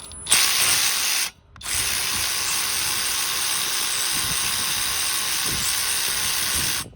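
A SeeSii RT600B cordless ratchet wrench running on a Makita battery spins a bolt, giving a steady loud buzzing whir after a brief opening burst and a short pause, close up and with no voices.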